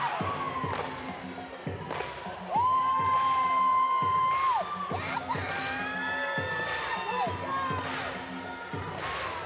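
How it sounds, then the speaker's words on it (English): Crowd at a college gymnastics meet cheering and whooping along with a floor routine, with rhythmic thumps of the music beat and sustained shouts rising and falling. "Love the way the crowd gets involved in Forbes' floor routine"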